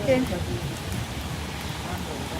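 Steady rain falls outdoors during a photoshoot, making a continuous, even hiss of drops with no breaks, fairly close and full throughout.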